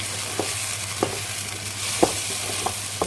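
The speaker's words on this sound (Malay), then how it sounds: "Kita tumis dia sampai dia keluar minyak ataupun sampai dia berbau harum ya." Ground dried chilli paste sautés in oil for a chicken rendang. A steady sizzling hiss is broken by soft periodic scrapes and taps of a stirring spoon, close by and with no voices.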